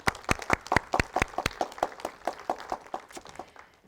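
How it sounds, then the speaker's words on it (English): Small audience at a talk clapping in thanks for the Virginia Aquarium, a short burst of separate hand claps that starts strong and quickly thins out, fairly close and with no talking. "give a round of applause for the Virginia Aquarium"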